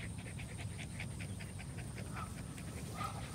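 A six-month-old puppy pants fast and rhythmically during outdoor long-line training, a quick steady string of close, soft breaths with no talking.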